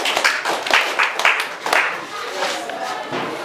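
Students in a physics classroom clap for a classmate in a burst of uneven, close handclaps. The clapping is quick and scattered for a few seconds, then thins into crowd murmur.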